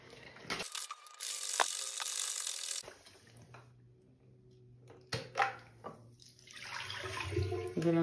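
Rice and water sloshing and rattling as they are shaken inside the plastic dirty-water container of a Hizero floor cleaner, coming in loud bursts of splashing and rattling with quieter gaps between them.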